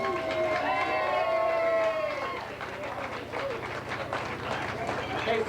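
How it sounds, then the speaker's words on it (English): Wedding guests cheer and applaud for the bride and groom, a dense crowd roar with whoops and clapping that swells and stays loud throughout, with voices mixed in. "can we have a huge round of applause for the bride and groom?"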